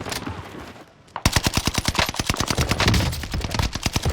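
Rapid automatic bursts from a PPSh submachine gun in Warzone on Rebirth Island, a short quiet lull and then a loud, sustained stream of closely spaced shots with no talk.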